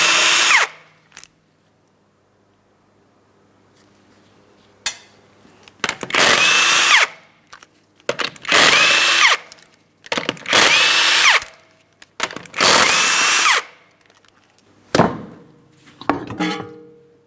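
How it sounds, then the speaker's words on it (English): A power tool spins off the 19mm wheel lug nuts of a 2008-2016 Chrysler Town & Country, loud whirring bursts of one to two seconds each, five in a row, separated by short quiet pauses. "you're going to remove all 5 of your 19mm lug nuts so we can get the wheel out of place"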